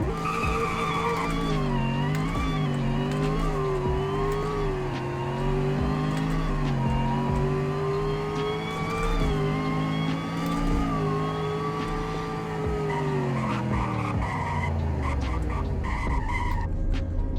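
A car's engine revs up hard in the Greenville video game during a speed test, rising and settling in long sweeps as it accelerates and shifts, loud and continuous, ending with a brief tire squeal as it slows.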